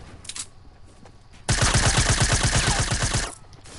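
Rapid automatic gunfire from a video game, aimed at bushes, bursts in loud and close for about two seconds as a rapid rhythmic stream of shots over quieter game ambience.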